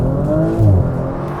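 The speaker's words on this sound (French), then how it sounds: "Un launch control, évidemment réalisé sur route fermée" A 2017 Audi RS5 Coupé with a turbocharged engine launching hard on a closed road. The engine note rises close and loud as the car accelerates in a short, rising roar, with no talk.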